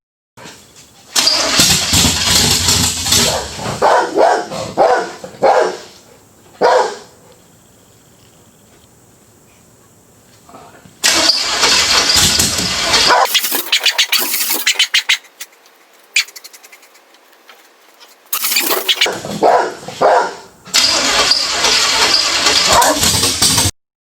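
A Chevelle car engine cranks and fires up, running loudly in uneven bursts, with revving surges and pauses between several attempts before it settles into running again.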